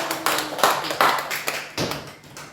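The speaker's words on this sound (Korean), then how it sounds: "박수 한번 쳐주세요" A small church congregation claps in a few short, scattered bursts of hand claps against a steady low hum, with no sustained ovation.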